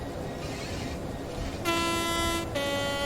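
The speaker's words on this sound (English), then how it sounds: "the new horn's a nice addition though" A train horn in the Train Sim World 3 train simulator game, Southeastern High Speed route, blasts twice, a long tone then a second after a short gap, over a low rumbling rail background.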